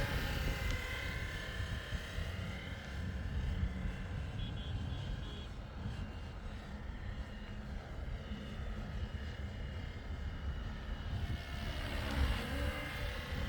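A 3D printed Hughes MD500 scale RC helicopter on a Flywing controller flies outdoors on a windy day, producing a continuous moderate rotor and motor whine that swells slightly near the end, with wind buffeting underneath.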